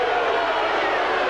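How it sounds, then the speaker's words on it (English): A stadium crowd at a 1982 rugby league match between Souths and Wests roars in a dense, continuous wash of voices, loud and steady throughout. "Crowd setting up a chant of off, off."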